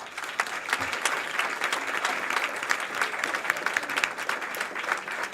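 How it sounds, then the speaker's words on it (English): A room full of people at a public school hearing claps steadily in an even, continuous ovation, moderately loud and fairly close throughout. "So give them a round of applause."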